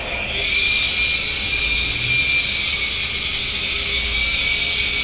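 A toy RC helicopter hovers nearby with its electric motor and rotor whining steadily and loudly throughout, a constant high-pitched buzz with no talking.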